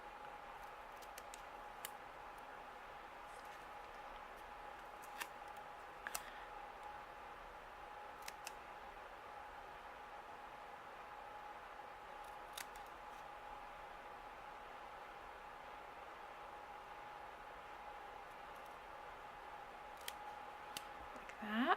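Scissors trim card paper during card making, producing faint, sparse snips and clicks scattered across a quiet room with a low hiss.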